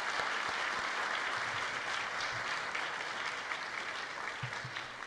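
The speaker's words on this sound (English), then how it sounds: "If we can get a round of applause for that project." Audience applause at a Florida Tech student design showcase, fairly quiet but steady clapping from a room of people that tapers slightly toward the end, with a few low thumps underneath.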